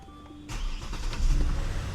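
A 2015 Hyundai Genesis 5.0 engine starts: a brief starter crank after a moment of quiet, then the engine catches and settles into a steady, close idle rumble.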